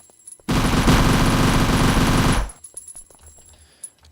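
A weapon in the indie video game Travelers fires a loud, continuous burst of rapid gunfire for about two seconds, then cuts off and leaves faint game ambience.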